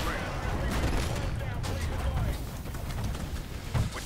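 Rapid bursts of gunfire fill a multiplayer shooter match in Hardpoint mode, with dense overlapping shots and explosions close by. A player's voice runs over the shooting.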